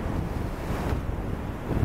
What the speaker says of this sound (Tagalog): ganun kagulo yung alon, no?